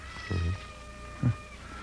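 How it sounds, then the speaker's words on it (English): A pet cat meows twice in a quiet indoor room, a longer call followed after a pause by a short one, close and clear over faint background hum. "There's her cat."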